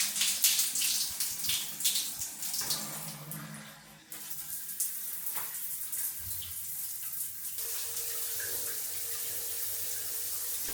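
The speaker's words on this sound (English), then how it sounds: "to turn on the shower you simply run the water and pull this nozzle." Water running from a walk-in shower in a five-star hotel room in Makkah, a steady hiss and splash whose tone shifts as the flow changes, with no talking over it.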